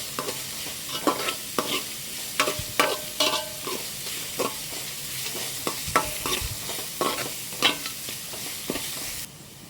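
Onions fry and sizzle in a pan for tomato rice while a spoon stirs them, giving repeated sharp scraping clicks over a steady close hiss, with no talking.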